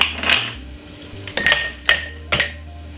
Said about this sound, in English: fill up my glass with some ice